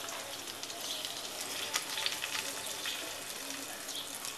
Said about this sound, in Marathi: अशा प्रकारे आपण आता ह्या मिरच्या शॅलो फ्राय करून घेणार आहोत.